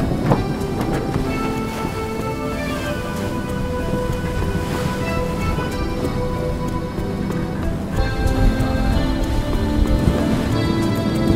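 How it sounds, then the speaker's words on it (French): Strong 40 to 50 knot wind at sea aboard a traditional square-rigged sailing ship sweeps in a steady, loud roar, with rushing water and a broad hiss that surges slightly but never lets up. "il y a beaucoup de vent, de 40 à 50 nœuds"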